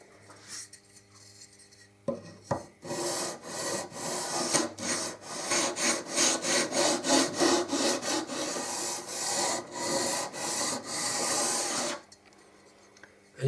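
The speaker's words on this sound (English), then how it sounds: "the next step then is to just gently sand the fretboard and level it off" A Teisco Top Twenty bass guitar fretboard being gently sanded level, rapid rhythmic back-and-forth rasping strokes of abrasive on wood, close and fairly loud, bursting in after a short quiet start and stopping abruptly near the end, no voices.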